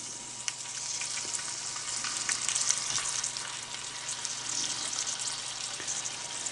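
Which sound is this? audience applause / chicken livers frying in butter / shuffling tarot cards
chicken livers frying in butter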